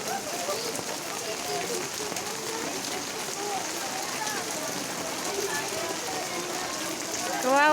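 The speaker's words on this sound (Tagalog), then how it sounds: "Grabe yung ulan." Heavy, steady monsoon rain during a southwest monsoon, a dense continuous wash of drops on surfaces heard close, with a voice talking faintly underneath and a brief louder swell at the end.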